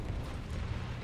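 An artillery gun fires in the War Thunder video game as a loud, dense, rumbling blast that fills the whole moment with heavy low boom and noise.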